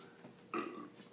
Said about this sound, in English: you won't expect burping on a beer show, would you?